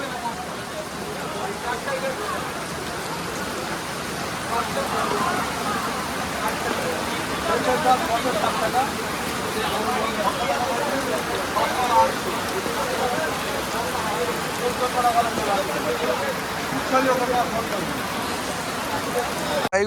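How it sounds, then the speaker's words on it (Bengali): Heavy rain pours steadily over an outdoor farmers' vegetable market, a dense continuous hiss with scattered patters, while people talk through it. "প্রবল বৃষ্টি হচ্ছে বৃষ্টির মধ্যেও মাল কিনছি দেখতে পারো বিশাল বৃষ্টি হচ্ছে"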